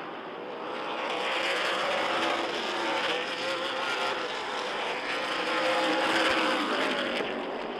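Super late model race cars roar around a short track during a 200-lap championship feature, a dense, continuous engine din from a pack of cars at close range, steady and loud without pause.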